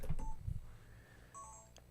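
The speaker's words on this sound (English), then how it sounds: "My phone is making noises." A mobile phone that has just updated gives off short electronic tones, with a brief blip near the start and a higher two-note chime later on, fairly faint against low background rumble.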